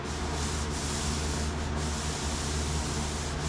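Hand sanding scuffs dried-on, dusty paint on a car body, a continuous dense rasping rub, close and steady, with a few brief dips as the strokes change.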